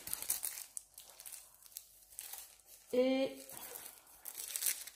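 A package is opened with soft crinkling and rustling of wrapping, ending in a louder tearing burst near the end, while someone speaks French quietly in between.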